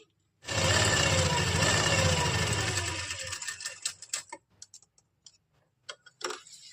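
A sewing machine runs in one loud, steady burst of about three seconds, small stitches along a pleated kurti, then trails into scattered clicks and fabric handling.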